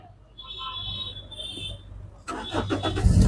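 A 2013 Toyota Etios G petrol car sits quiet with soft electronic chimes, then the engine cranks once, catches and settles into a loud, close, steady idle.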